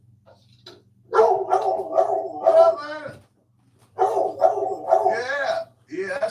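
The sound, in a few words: dog barking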